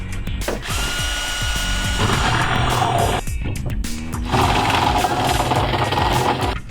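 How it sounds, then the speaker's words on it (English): A power drill whirs loudly and continuously while drilling a hole for a homemade boat livewell, its pitch dipping briefly as it bites into material, with grinding and rattling under the motor's whine. "And I'm ready to drill."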